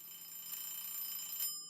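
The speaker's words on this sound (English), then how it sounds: "Phone ringing from spare bedroom." A telephone rings in a spare bedroom in the video game Before I Forget: a steady, fairly faint electronic ring tone that holds, then cuts off abruptly near the end.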